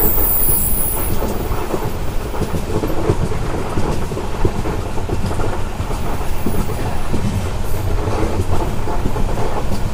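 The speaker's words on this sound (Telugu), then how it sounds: "ఆ లేక్ చుట్టూ ఒక రౌండ్ అయితే వేస్తాను మన ట్రైన్." The Kolkata–Sairang passenger train rolls loudly on its curving track around a lake in Mizoram, a continuous heavy rumble of wheels and carriages with squealing wheel tones near the start, close by.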